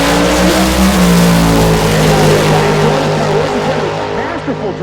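A Corvette pro mod drag car with side pipes and a vintage road-race-style paint job roars through a full-throttle pass at about 195 mph. The engine is loud and close and holds steady throughout, with a commentator talking over it.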